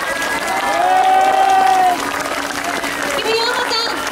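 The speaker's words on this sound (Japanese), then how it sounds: "もう一度大きな拍手をお願いします" Crowd at an outdoor rally outside the National Diet main gate in Tokyo, applauding steadily and loudly while a voice carries over the clapping.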